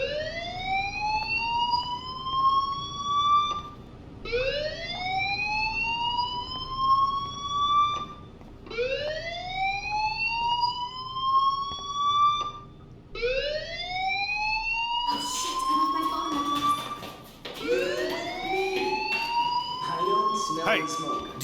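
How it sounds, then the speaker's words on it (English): A school fire alarm in the video game Life is Strange wails in repeated rising sweeps about every four seconds, steady and prominent, with other sounds joining near the end. "do you hear that fire alarm? That means you should be outside."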